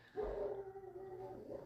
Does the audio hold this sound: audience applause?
no